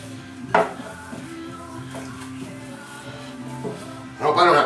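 Ground pork and veal for meatballs are mixed by hand in a bowl, with soft squishing and occasional clinks of the bowl, while someone talks throughout.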